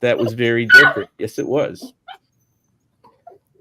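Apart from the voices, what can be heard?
dog crying and barking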